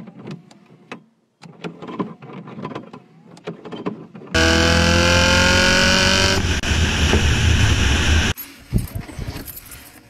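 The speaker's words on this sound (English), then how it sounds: "this is what the heater fan in my 240D sounds like." A heater blower fan in a Mercedes 240D car runs loud and steady with a harsh whine for about four seconds, after quieter clattering and knocking, then falls away to softer mechanical noise.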